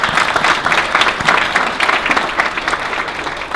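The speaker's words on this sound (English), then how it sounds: "Give them a round of applause, please." Audience at a family business awards ceremony applauding the winners, a dense, steady clapping from a sizable crowd, loud and sustained throughout without pause.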